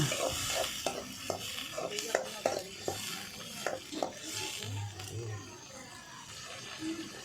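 Onion, garlic and ginger paste is stirred in a frying pan, with repeated scraping clicks of a spoon against the pan over a faint sizzle, close and fairly quiet; a voice talks in the background.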